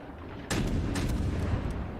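Naval guns fire in the World of Warships video game, a sharp blast followed by sustained rumbling boom and a second burst, loud and without talk.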